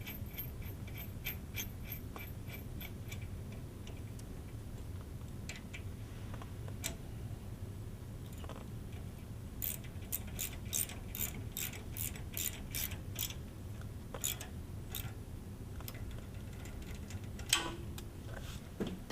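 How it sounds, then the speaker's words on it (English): Ratchet tightening an M12 bolt on a lifting device bracket, a long run of faint steady ticking clicks with quicker clustered bursts, close but quiet, no talk. "Make sure to securely fasten the bottom bracket in the correct position"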